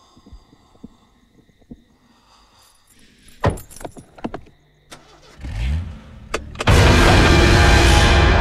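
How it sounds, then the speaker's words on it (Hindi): A car in a horror film scene gives a few clicks and thumps, cranks with a rising whir, then catches into a loud, steady engine roar that fills the end. "मैं गाड़ी चला रहा हूँ, तू पीछे बैठ।"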